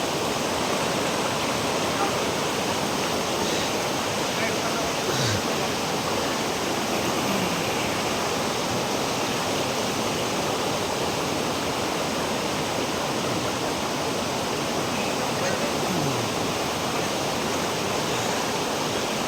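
The Tugnaw River in Barangay Mahaba, Cabadbaran City, Agusan del Norte, Mindanao, a cool swimming spot, gives a steady, loud, unbroken rush of flowing water that fills the whole stretch.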